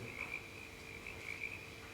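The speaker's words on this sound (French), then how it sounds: "Ces grenouilles." Frogs croak steadily through a stage performance of the theatre play Albatros by Fabrice Melquiot, a quiet, continuous chorus with a few brief louder pulses and no voices.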